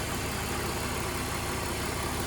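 A BMW E46 320ci convertible idles during yearly maintenance, a steady, continuous engine drone heard up close with no voices over it.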